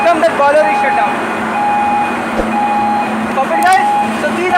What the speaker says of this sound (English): See the flame extinguisher and alarm has come that boiler is shut down.